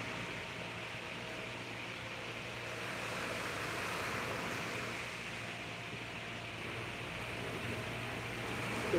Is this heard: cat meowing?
no